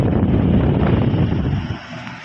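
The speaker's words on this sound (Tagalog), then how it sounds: "So, on na natin ang fan muna. Yun, lakas." A steady, loud rush of blowing air from an air conditioner fan, a continuous fan-like roar that eases slightly toward the end.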